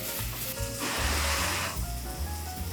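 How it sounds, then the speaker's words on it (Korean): Onions fry in a pot for a tomato sauce, giving a steady, loud sizzle with soft scraping pulses as they are stirred, close up and with no talk. "조금씩 어느 정도 가열하면서 약간 색깔이 나려고 하면 또 저어주고"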